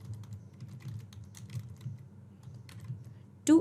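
Fingers tap on a computer keyboard in a quiet room, a soft, irregular run of light key clicks over a low hum, ending in one louder clack.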